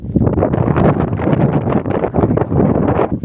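Gusting wind outdoors on a farm buffets the microphone, giving a continuous low, rumbling roar that swells and dips in quick waves for a few seconds. No speech is heard.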